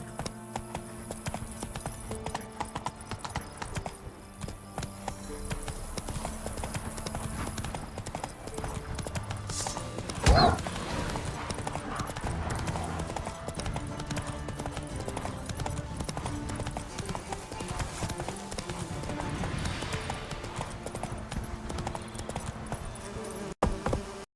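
Roach, the horse in The Witcher 3: Wild Hunt, gallops in a steady rapid clip-clop of hooves over a game music bed, with a brief sharp impact near the middle and a faint voice now and then.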